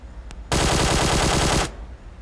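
A PUBG Mobile automatic weapon fires one loud, close burst of rapid shots lasting about a second, with quiet game ambience before and after.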